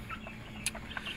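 Free-range plucker chickens give a few short, soft clucks and chirps, scattered irregularly over a low background hum.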